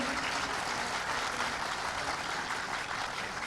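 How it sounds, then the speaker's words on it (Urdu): A standing audience claps steadily to welcome PML-N party leaders at a Pakistani political gathering, a dense, continuous wash of applause with no pauses. "کھڑے ہو کر تالیوں کی گونج میں اپنے قائدین کا استقبال کریں۔"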